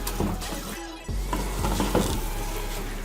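A spoon stirs dal mash with coriander, ajwain and black pepper in a hot pan, with close scraping strokes and soft clatter over a constant sizzle.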